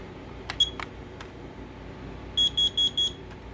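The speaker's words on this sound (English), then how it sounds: "a carbon monoxide alarm." Four sharp, high electronic beeps from a carbon monoxide alarm sound in an even row, preceded by a couple of brief clicks, over a quiet background hum.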